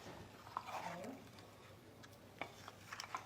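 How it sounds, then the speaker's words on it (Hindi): Changezi chicken curry being stirred in a pan after water is added: soft scraping and wet sloshing of the spoon, a few light clinks against the pan, faint and close. "पानी डाल के हम एक बार अच्छे से चला लेंगे।"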